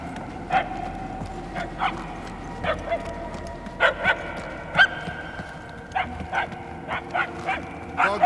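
A dog in Guardians of the Galaxy barks repeatedly at a distance, sharp single and double barks spaced irregularly over a low ambient hum, with faint voices murmuring underneath.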